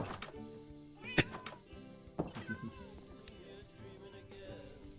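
Cat meows from the Minecraft video game, two short sharp mewing calls a second apart, followed by softer game sounds and a quiet talking voice in the background.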